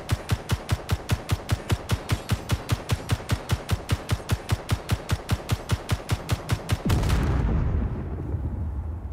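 Rapid automatic turret gunfire in the Space Engineers video game, a long steady stream of evenly spaced loud shots that stops abruptly near the end, leaving a low rumbling roar.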